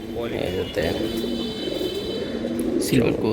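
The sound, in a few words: silver pigeons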